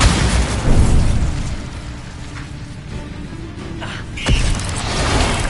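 A Bombarda spell explosion in the video game Hogwarts Legacy, heard as a loud, dense, broadband blast that rumbles on continuously, with a further burst surging near the end.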